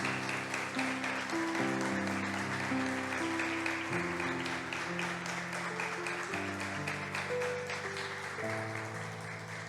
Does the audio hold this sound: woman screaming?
no